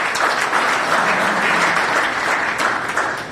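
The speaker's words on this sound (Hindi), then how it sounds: "वाह जोरदार तालियां हैं।" Loud, sustained applause from a large audience at a networking seminar, with dense, steady clapping throughout and no speech.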